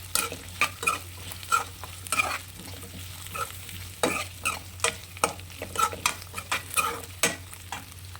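Green peas and drumstick pieces are stirred in a pan of brinjal tomato curry, a steady rhythm of scraping spoon strokes over a soft, continuous sizzle.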